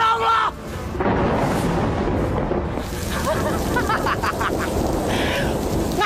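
Thunder from a storm fills the scene with a sustained, loud rumbling roar that swells and lingers under dramatic action, with voices and crackling noise mixed in.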